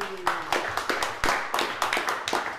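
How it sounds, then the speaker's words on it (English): Brief, fairly faint clapping from a small group for Paul at a roundtable event, a loose run of hand claps with a few sharper accents over a couple of seconds. "Round of applause for Paul."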